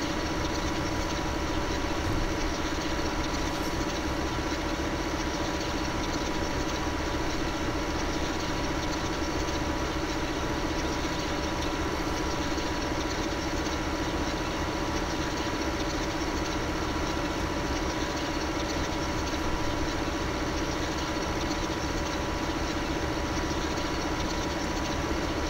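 A tractor engine in the Farming Simulator 2015 game, set on the Sandy Bay map and sized to pull a big Krone baler, runs with a steady, continuous drone at constant loudness, with no talk over it.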